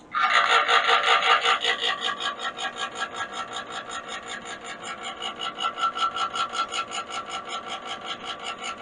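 A parts cleaner runs with 1964 Suzuki K11 carburetor parts inside, giving a steady rhythmic rasping churn that pulses quickly and evenly, loudest at the start and then settling to a constant close hum with no voices.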